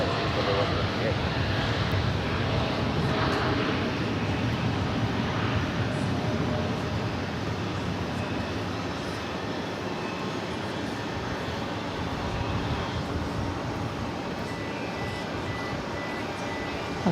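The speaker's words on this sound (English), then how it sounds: "That's American Airlines 236 heading off to Rome. 787-9 Dreamliner." An American Airlines Boeing 787-9 Dreamliner departing JFK for Rome roars from a distance as a steady, broad jet engine rumble. The sound holds evenly throughout, with voices in the background.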